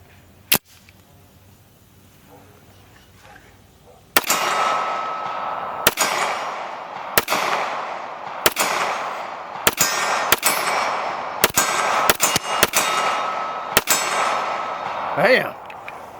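Shots from a Magnum Research 1911 Undercover handgun ringing off steel targets: a single early report, then around a dozen sharp cracks in an irregular string, each with a bright metallic ring, over steady background noise.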